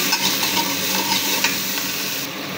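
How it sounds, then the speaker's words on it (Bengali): Baim fish (spiny eel) frying in a pan with salt, turmeric and spices while being stirred, a steady close sizzle with scraping stir noises running throughout, no voices. "এবার মাছগুলো একটু কষাবো"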